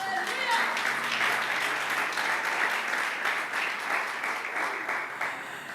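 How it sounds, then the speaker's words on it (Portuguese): Congregation applause in a church service, a sustained round of many hands clapping that swells early and then slowly tapers, with a voice briefly audible over it at the start. "E uma salva de palmas para ele."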